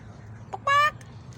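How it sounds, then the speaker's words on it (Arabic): A hen gives a short clucking call, one brief burst followed by a slightly longer harmonic cluck, close and clear over a low background hum with no talking. "الدجاجة حاطة بيض."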